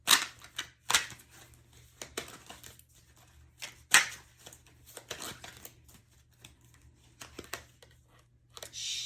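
Tarot cards shuffled for a reading, a series of soft riffling and flicking bursts at irregular intervals, quiet and close, with no talking.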